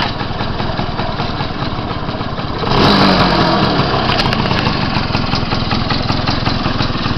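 A small Urban engine runs loud and close with a steady idling chug, its ground wire disconnected so it can fire. The engine swells noticeably louder about a third of the way through, then keeps running.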